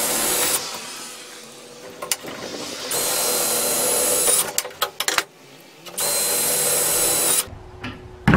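A power drill whines in several sustained bursts, stopping and starting, as it drives screws into an RV bed frame, loud and close with short gaps between runs.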